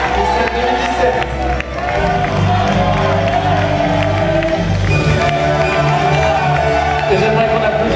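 A crowd at a Miss 2017 pageant loudly applauds and cheers the winner, a dense continuous roar of clapping and shouts close around.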